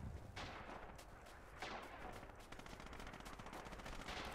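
Heavy gunfire in the WWII shooter Red Orchestra 2 around a trench system: dense, continuous bursts of rifle and machine-gun fire with booming impacts, loud and unbroken throughout with no talk.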